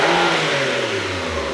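Porsche 992 Carrera flat-six engine revved hard in neutral past 4,000 RPM, a loud, close, continuous rising engine roar with sustained harmonic tones climbing in pitch.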